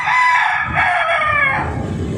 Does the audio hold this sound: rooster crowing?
yes